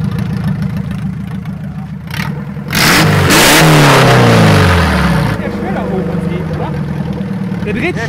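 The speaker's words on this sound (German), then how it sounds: "Der dreht schneller auf Touren" A VW Golf engine, tuned by adjusting the ignition timing, idles and then revs up quickly in a loud, rising burst before dropping back to idle, heard close with a person talking over it.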